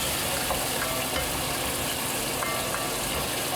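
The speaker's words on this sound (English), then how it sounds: "got my wooden spoon. Scrape up all those bits." Liquid bubbles and sizzles steadily in a pot roast pan as a wooden spoon scrapes up the browned bits, a continuous dense hiss with faint scraping touches and no talk.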